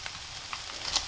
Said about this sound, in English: So we'll just fry it up until it's a nice golden colour.